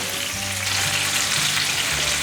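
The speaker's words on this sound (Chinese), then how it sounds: "再继续让它煎，两面煎成焦黄色就可以了" Winter melon slices fry in a pan until golden on both sides, a steady, dense sizzle and crackle of oil running unbroken and close for a couple of seconds, with no talking.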